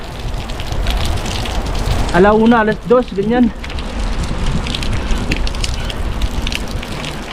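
Steady afternoon rain falls as an even, broadband hiss with pattering on surfaces throughout, and a voice speaks briefly over it partway through.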